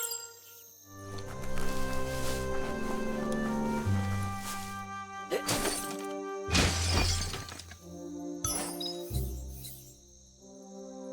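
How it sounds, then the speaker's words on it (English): Box smashed in the Biomutant video game: loud crashing breaks and shattering bursts land over a sustained musical game soundtrack, with a couple of heavy impacts in the middle and another near the end. "You shouldn't worry about smashing up the box."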